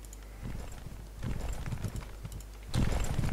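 Horses' hooves clip-clopping in the strategy game WarCraft: Armies of Azeroth, a steady rhythmic trotting that grows louder in stages and is busiest at the end. It is heard alone, with no talk over it.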